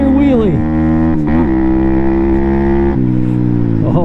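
A loud Venom Thunder 125cc motorcycle engine with a Nibbi part installed revs hard and climbs steadily in pitch through third gear during a wheelie, with brief dips as the throttle shifts, recorded up close.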